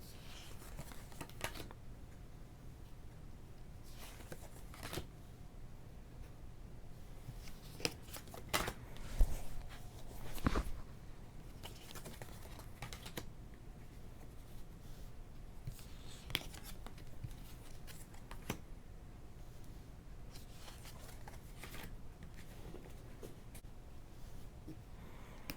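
Psychic Tarot Oracle cards being flipped through by hand, with faint papery slides and soft snaps of card against card at irregular intervals over a quiet room, with a few sharper clicks midway.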